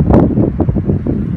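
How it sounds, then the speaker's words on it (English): Strong, cold gusts of wind buffet the microphone in a low, rumbling roar, rising and falling over a short moment. "Very windy and cold though."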